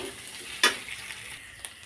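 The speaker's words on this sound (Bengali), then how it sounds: "তেল দিতে হবে, এবার একটু ভেজে নেবো ভালো করে," Oil frying for a home-cooked chow mein, with a sharp sizzle and stir burst near the start, then a steady low hiss with a second small clatter toward the end.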